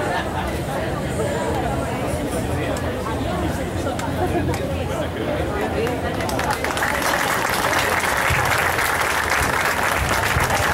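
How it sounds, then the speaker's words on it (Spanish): An audience at a municipal orchestra and choir concert gives welcoming applause, a steady crowd of clapping hands with murmured chatter underneath, swelling brighter and louder in the second half. "Le damos fuerte el aplauso de bienvenida y comenzamos."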